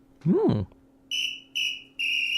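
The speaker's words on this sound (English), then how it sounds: "there's the whistle" A referee-style whistle blown to start a contest: three sharp, bright blasts in quick succession, each short and loud, after a brief rising vocal sound.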